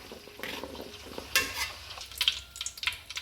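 Hog plums sauté in hot oil, giving a soft sizzle broken by scraping stirs and sharp clicks of a utensil against the pan, close and fairly quiet.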